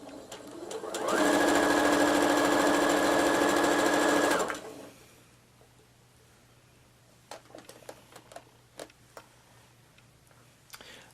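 Sewing machine stitching around the edges of a fabric table runner, one loud steady burst of about three seconds, followed by quiet with faint scattered clicks and handling sounds.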